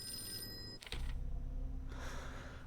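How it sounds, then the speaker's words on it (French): A doorbell in the Call of Cthulhu video game rings briefly against a steady background drone, then a deeper rumble takes over. "Et qui sonne devant chez moi, ça va pas?"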